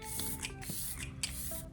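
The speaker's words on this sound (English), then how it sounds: "I like to hydrate my skin using a mist." Glow Recipe Watermelon face mist sprayed onto skin, several quick hissing bursts from the pump in close succession, close and fairly soft.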